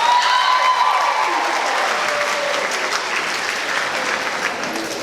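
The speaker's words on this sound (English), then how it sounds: "Everyone clap it up for Men's Warehouse" Audience applauding at a Mr. East formal-wear pageant, a dense, loud burst of clapping with crowd noise that stays strong throughout and eases off only slightly toward the end.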